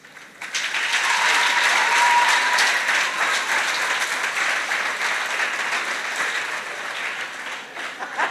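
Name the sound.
audience applause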